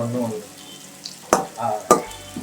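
Onion paste is stirred into a sizzling Telangana-style fish curry, a soft frying hiss with a few sharp scrapes of the spoon against the pan.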